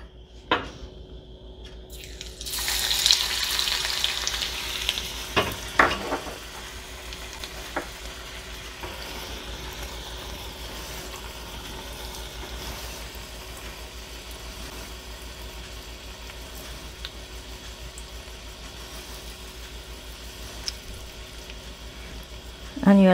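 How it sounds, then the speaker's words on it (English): Chopped garlic hits hot oil for a tomato choka, bursting into a loud hiss that settles into a steady, continuous sizzle with occasional pops and a stir or two. "So this oil is nice and hot now, and I'm going in with the chopped garlic."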